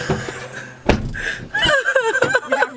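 A single sharp door slam lands loud and close near the start, then casual talk follows.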